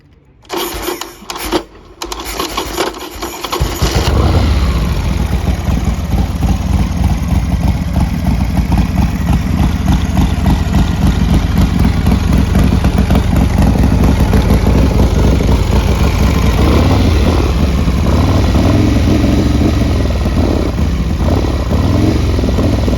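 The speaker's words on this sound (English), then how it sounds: "I'll just fire it up." A 1992 Harley-Davidson Sportster 883 with a weak battery is cranked with a few brief stuttering turns, then catches and settles into a loud, steady, close-up idle.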